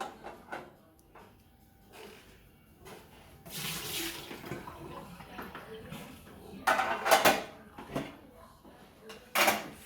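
Water is emptied and splashes during cleaning of a Rancilio coffee machine: quiet handling noises, then several loud close bursts of pouring water.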